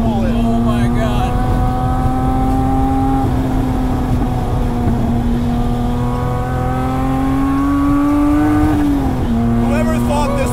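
A loud 500-horsepower rear-wheel-drive Mini engine roars steadily, its pitch climbing and then dropping briefly as a gear shifts before it climbs again.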